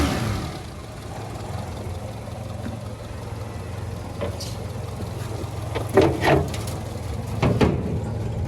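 A 2006 Suzuki Espass pick-up engine idling steadily with a low hum, interrupted by a few sharp knocks and clatters near the end.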